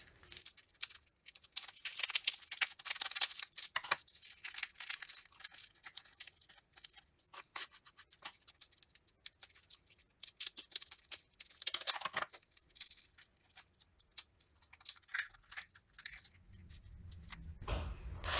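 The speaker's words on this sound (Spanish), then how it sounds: "Con la ayuda de unas tijeras vamos a desvenar los chiles." Kitchen scissors snip open dried chiles to remove the veins, producing scattered bursts of crisp cutting and crackling of brittle chile skin, fairly close but quiet, with gaps of near silence.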